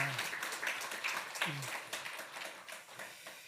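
A church congregation applauds the choir during a Sunday worship service, fairly faint clapping that swells briefly then thins out, with a voice heard at the start and midway.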